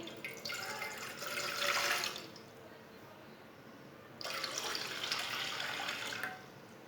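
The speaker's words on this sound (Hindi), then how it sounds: "2 कप पानी डाल लेंगे।" Tap water running into a pan to make spiced desi chai; two steady splashing, hissing bursts of flowing water, each lasting a couple of seconds, separated by a brief pause, with no voices.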